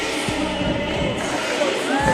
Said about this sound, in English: we've got another big crowd accumulating behind us, guys, so if you can't hear us, we apologise